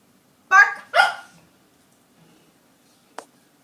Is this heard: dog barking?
yes